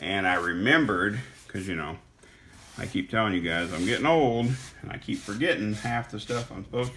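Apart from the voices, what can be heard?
No everyday noises stand out.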